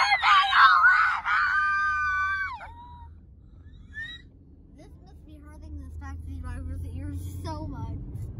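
A group of people scream together in a taxi, a loud burst of high-pitched, sustained shrieks in the opening two to three seconds that trails off, leaving low road rumble from the vehicle and faint chatter.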